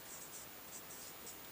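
Chalk or marker scratching across a board during a maths lecture, faint rhythmic strokes in short bursts over steady room hiss.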